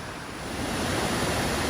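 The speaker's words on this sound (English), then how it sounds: "This is the lower section of Robbies Falls. Beautiful little stepped falls." Robbies Falls in the Huon Valley, its lower stepped section a few metres high, giving a steady, loud, close rushing roar of falling water that swells slightly, with no talk.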